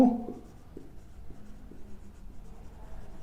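A pen scratches steadily across paper while an accounting entry is written out, a close, quiet, continuous scribbling with faint room noise behind it.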